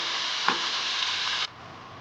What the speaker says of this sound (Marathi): आता आपण सर्व पुऱ्या तळून घेऊ